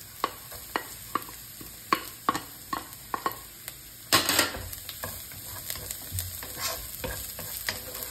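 Garlic sizzles in hot oil in a pan for lechon paksiw while a utensil scrapes and taps against the pan in irregular stirring strokes, close and clear, with no talking.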